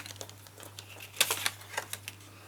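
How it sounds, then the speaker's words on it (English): Card stock being trimmed to size, heard as a quiet run of light clicks and papery crinkles with a few sharper snaps partway through. "So I'm just going to cut this at 5 1/2"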